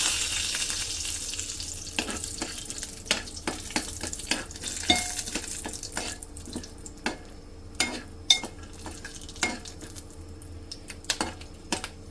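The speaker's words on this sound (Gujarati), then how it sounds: "થોડું સિંગ અને લીમડોને શેકવા લઈશું" Peanuts and curry leaves roasting in a pan, a soft steady sizzle broken by repeated light taps and clinks of a spoon stirring against the metal.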